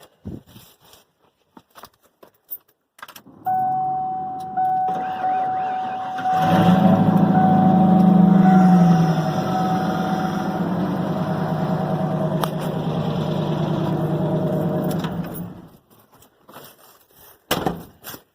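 A 1993 Ford F-150 truck engine cranks and catches, then settles into a loud, steady idle for several seconds before shutting off amid scattered clanks.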